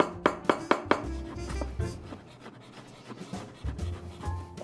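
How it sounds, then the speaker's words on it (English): Baby portobello mushrooms chopped on a kitchen board, a few sharp knife strikes in quick succession followed by softer, scattered cuts and clatter at close range. "I got the baby portobello mushrooms. You know, I'm gonna chop those up a little bit"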